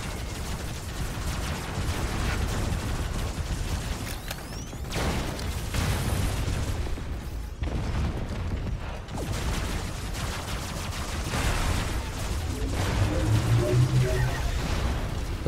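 Rapid gunfire from robot vehicle weapons in the online battle game Robocraft, continuous bursts and booming impacts over steady mechanical noise, loud and close throughout, with a faint voice underneath.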